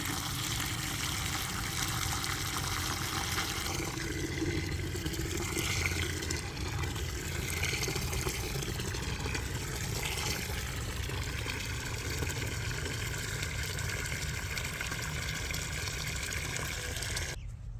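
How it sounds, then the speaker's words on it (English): Rainwater pours steadily into a container holding carrot leaves for fermenting, a long continuous gushing trickle with no talking. "Now, fill the container with rainwater or non-chlorinated water."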